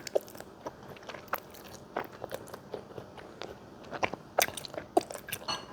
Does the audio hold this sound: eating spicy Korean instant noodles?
yes